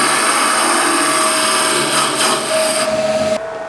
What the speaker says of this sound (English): so I'll turn the lathe back on and now I can get into the middle a bit better